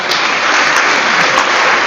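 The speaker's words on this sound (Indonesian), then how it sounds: "tepuk tangan yang meriah" An audience at a tech meetup session applauds, a dense, steady burst of clapping that fills the short moment without any voices.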